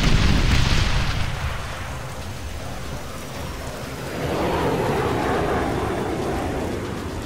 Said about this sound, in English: Now that was just a gun run from the A-164.